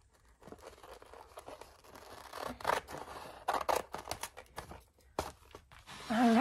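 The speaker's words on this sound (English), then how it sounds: "I need to trim this off down here" Scissors trimming paper for a glue book, heard as a few close, crisp snipping and crinkling bursts in quick succession, with short pauses and light handling noise between cuts.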